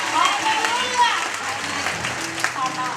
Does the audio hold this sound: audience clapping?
yes